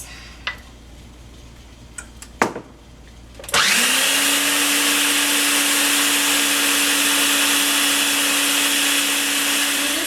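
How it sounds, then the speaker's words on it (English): A blender switches on after a few soft clicks and clunks and whirs loudly and steadily while blending a vegan breakfast sausage mixture with coconut oil, a close, constant motor drone. "Blend it for about 30 seconds with the oil."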